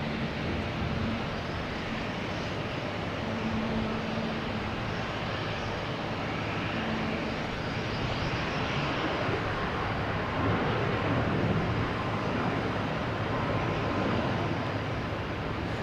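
An Alaska Airlines airliner arriving at Boston Logan Airport, a steady broadband jet roar that holds loud and close throughout with no break.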